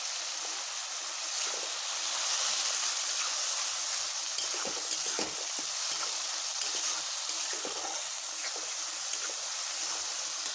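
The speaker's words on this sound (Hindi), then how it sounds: "आब एकरा हम कनि फ्राई कऽ लै छी बढ़िया जकाँ" Potatoes frying in a pan with mustard seeds, ginger, onion, garlic and turmeric for the Mithila dish aloo biriya, a steady close sizzle with faint crackles throughout and no talk.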